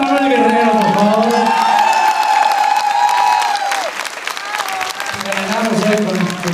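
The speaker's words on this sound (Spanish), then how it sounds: "¡Un aplauso para Manuel Guerrero, por favor!" Loud audience applause with cheering and whoops for a radio host at a tribute band concert, sustained crowd clapping over a held musical tone and a voice speaking in the hall.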